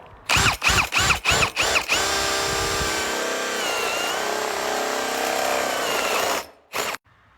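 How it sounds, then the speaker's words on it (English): A power drill fitted with a 1-inch spade bit revs in several short bursts, then bores steadily through a wooden door for a few seconds before stopping, with a final brief whir. "you're gonna get a 1 inch spade bit, and you're gonna go right where that hole was"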